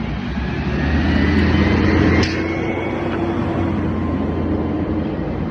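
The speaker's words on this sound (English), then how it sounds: "big garbage truck." Big garbage truck passing along a street, a loud steady engine rumble and roar that swells and eases as it goes by, up close with no speech.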